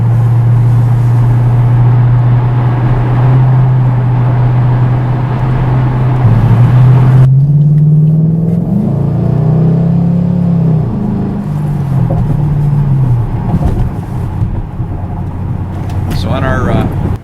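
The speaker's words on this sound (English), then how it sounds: "On a scale of 1 to 10, I would put our drone at a 1 or 2." Camaro SS fitted with an MRT cat-back exhaust cruising at about 1900–2000 RPM, a steady low exhaust drone and road rumble running throughout, with engine note shifting slightly midway.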